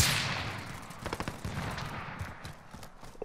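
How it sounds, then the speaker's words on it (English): Rapid bursts of automatic gunfire in the video game Call of Duty: Modern Warfare, crackling in quick clusters over a steady noisy background, with a few louder shots standing out. "They shoot at us"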